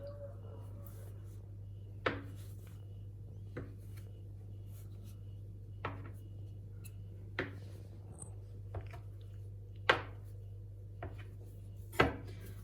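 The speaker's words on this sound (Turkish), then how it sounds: "bir müddet daha tezgahın üstünde yoğurduktan sonra parçalara bölüyoruz" Kneaded dough for pişi, Turkish fried dough, is divided into pieces on a kitchen counter, giving sharp single knocks every second or two over a steady low hum.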